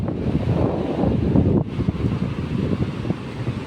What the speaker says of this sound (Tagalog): Sobrang laki ng alon guys.